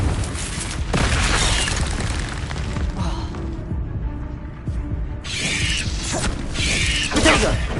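Confringo explosive spell cast in a Harry Potter video game, heavy booming blasts, one near the start and more toward the end, over a rumbling game backdrop.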